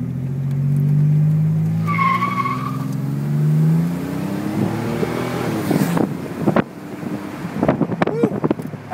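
A turbocharged Buick Grand National T-Type engine revs and climbs hard through the gears with rising pitch, wind buffeting the microphone, ending in rough, bursty noise.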